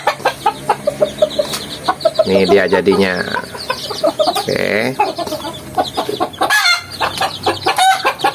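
Berugo chickens, a cross between village chickens and wild junglefowl, cluck repeatedly and close by, with a short crow-like call partway through, while someone talks over them.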